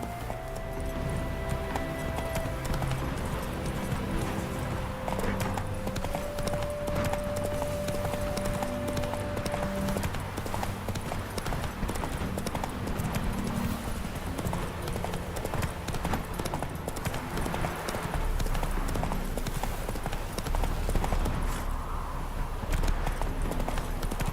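Horse Roach's hooves clip-clop steadily in The Witcher 3 game, a continuous trotting rhythm over a busy bed of ambient game sound and music, with a brief whinny cue.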